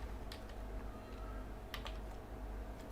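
Someone types a search into a computer keyboard while working in Adobe Premiere Pro, with a quiet run of soft, irregular key clicks close by and a few sharper taps.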